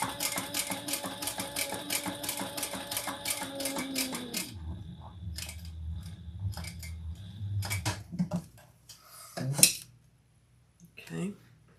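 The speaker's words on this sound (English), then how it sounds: "And I am back stitching" A sewing machine set to a short stitch length of 4 runs a rapid, steady rattle of back stitching for about four seconds, then stops. A few scattered clicks and thumps follow at close range, and no one talks over it.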